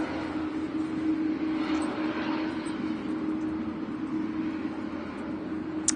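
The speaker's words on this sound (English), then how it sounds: "Singapore A350's out" A Singapore Airlines A350 departs Manchester Airport on a windy day, its jet roar a steady broad rumble with a sustained low tone, heard from a distance with wind noise.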